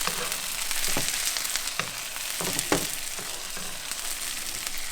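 Fish sizzles and froths in butter in a pan while being basted, a steady close frying hiss with soft spoon scrapes and stirs, no talk.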